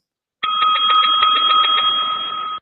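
A bell rung on a live stream to mark a viewer milestone, a steady bright ringing tone that sustains for about two seconds, loud and close, with no talking over it.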